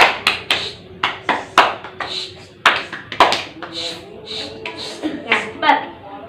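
A classroom group of students claps the 'tepuk diam' rhythm, sharp clustered claps in quick patterns, with a teacher's voice chanting along between and over the claps.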